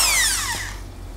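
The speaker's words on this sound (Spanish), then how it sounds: "ya tenemos conectado nuestro taladro" An electric drill runs unloaded off a portable solar generator built with a 12 V battery, its high motor whine sliding downward in pitch as it spins down, steady and close with no talk.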